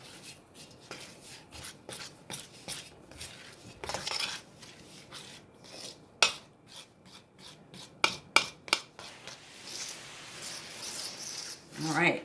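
Pasta dough being scraped and flung on a floured work surface, a series of dry rasping scrapes and scattered sharp knocks, close and moderately loud, with a person talking faintly underneath.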